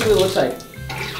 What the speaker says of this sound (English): Water pressure? Yeah, turn the shower on.